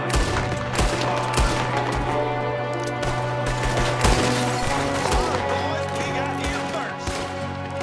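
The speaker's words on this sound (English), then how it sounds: "There's another one shooting from the window!" Gunfire rattles through an ambush in the video game Red Dead Redemption 2, dense repeated shots and rapid bursts cracking loudly over a steady musical drone, with voices shouting between the shots.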